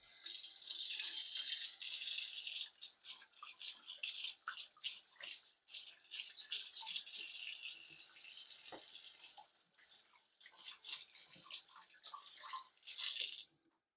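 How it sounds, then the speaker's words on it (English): Hands are washed under a running kitchen tap, the water hissing on and off with splashing and rubbing, close and fairly quiet. "And wash my hands."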